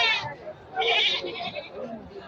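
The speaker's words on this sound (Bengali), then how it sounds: "খালি চতুর্দিকে ছাগল আর ছাগল।" Black Bengal goats at a busy goat market give a few loud, close bleats, one after another, with crowd chatter around them.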